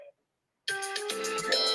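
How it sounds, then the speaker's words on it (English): A phone alarm ringtone bursts in after a brief moment of silence, a bright, loud, melodic electronic tune with steady tones, close to the device. "I need to turn my ringer off."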